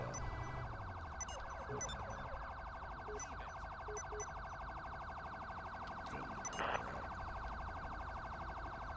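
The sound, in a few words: police truck siren in LSPDFR video game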